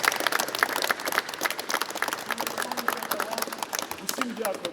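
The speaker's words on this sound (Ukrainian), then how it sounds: "Давайте оплесками спочатку один одного привітаємо." Audience applause at a Ukrainian wheelchair basketball tournament, a dense, irregular patter of many hands clapping throughout, moderately loud in an indoor hall, with voices faintly audible underneath.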